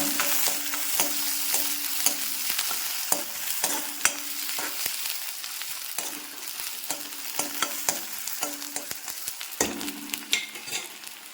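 Shallots and mustard seeds fry in a pan for a pachadi, stirred with a spoon: a steady hiss of oil broken by sharp scraping clicks and taps, close and fairly loud, with no talking.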